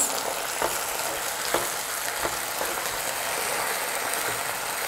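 Chilli paneer with red chilli sauce, soy sauce and tomato sauce frying steadily in a pan, a constant sizzle with a few soft stirring clicks.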